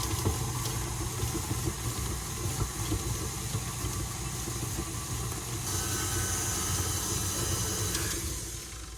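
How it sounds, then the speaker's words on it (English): An electric stand mixer churns cookie dough with food coloring mixed in, a steady, loud motor whir with a hiss that holds throughout and shifts slightly partway, no speech. "I'm going to go ahead and start my mixer and let it mix that in"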